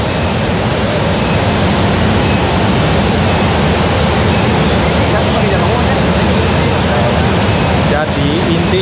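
A waterfall roars in a dense, constant wash of loud broadband rushing water that fills the whole clip, close and overwhelming, with no distinct breaks.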